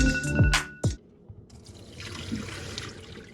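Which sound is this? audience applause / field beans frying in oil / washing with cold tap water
washing with cold tap water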